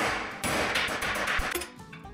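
A hammer strikes steel angle iron being bent by hand, a run of sharp metallic clanks and rings at an uneven, fairly quick pace, loud and close, with no talking.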